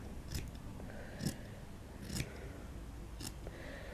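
Scissors snipping while trimming paper for an elegant handmade book, four crisp cuts spaced about a second apart, close and fairly quiet against a low room hum.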